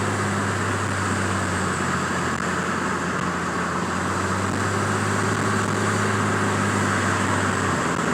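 A vehicle with a 46RE transmission drives along with a steady, loud engine and road drone, and the low hum drops slightly near the end as it shifts into overdrive.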